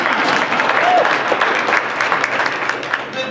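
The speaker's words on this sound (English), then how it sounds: "Go ahead and applaud, it's okay." An audience at a morning talk breaks into brief, steady applause, many hands clapping together at moderate loudness throughout the short stretch with no voices over it.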